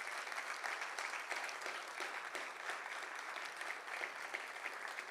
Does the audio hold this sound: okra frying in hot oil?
no